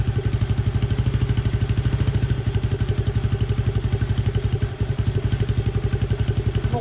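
Honda DAX clone with a 125cc engine idling steadily on its own, a fast even putter of close, loud exhaust pulses with light mechanical clatter, running without throttle throughout.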